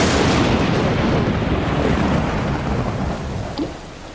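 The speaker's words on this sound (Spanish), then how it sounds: "Las tormentas azotaban los cielos y la lluvia comenzó a caer sobre la superficie rocosa" Heavy rain pours onto a rocky surface during a thunderstorm, making a loud, dense, continuous roar with deep rumbling thunder underneath that eases slightly toward the end.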